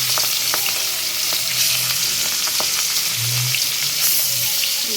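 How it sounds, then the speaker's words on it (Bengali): Fish coated in turmeric, chilli and salt frying in hot oil, a steady sizzle with scattered crackles and pops and a low hum underneath, heard without speech. "মাখাইয়া মাছটি ভাজতেছি"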